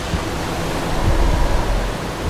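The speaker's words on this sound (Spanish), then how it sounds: "Desde la orilla las veo levantarse. Son olas tan grandes y gigantes." Large ocean waves break on the shore in a steady, dense roar of surf that swells slightly midway, with no voices.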